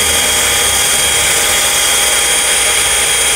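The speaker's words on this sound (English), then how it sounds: "Come right in here with a hole saw and drill out my hole where I want it." A hole saw on a drill cuts through the wall of a ride-on sprayer tank, giving a loud, steady whining grind that holds unbroken for a few seconds.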